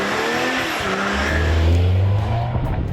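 A hard-braking SUV during pavement testing, with loud tire squeal and skidding on asphalt rising over a low engine drone, sustained for a few seconds up close.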